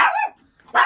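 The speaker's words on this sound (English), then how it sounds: "I also have a chihuahua who's being very yappy right now." A small chihuahua gives two sharp, yappy barks close by, separated by a brief silent gap.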